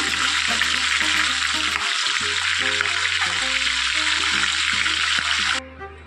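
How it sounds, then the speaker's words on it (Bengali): Katla fish head frying in hot oil in a pan for a Bengali dish, a loud, steady, close sizzle and crackle running throughout under a low background hum, easing off slightly at the very end. "মুড়োটা আমি ভাজতে দিয়েছি।"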